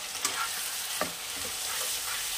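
Tomato and chili powder sautéing in a pan for snakehead fish curry, an even close sizzle with a few soft stirring clicks and scrapes, no talking.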